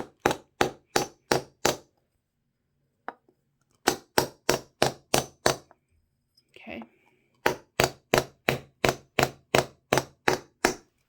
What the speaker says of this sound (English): I will hammer the first nut in